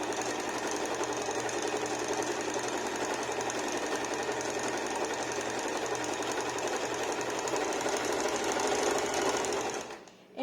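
A sewing machine stitches fabric at a fast, steady clatter for about ten seconds close up, then slows and stops at the end.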